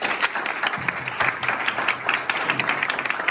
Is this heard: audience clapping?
yes